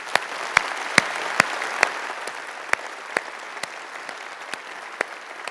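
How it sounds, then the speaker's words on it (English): A round of applause from a conference audience after a stunning performance, moderate clapping with a few sharp individual claps standing out, thinning gradually over several seconds. "So let's give another big round of applause for that stunning performance."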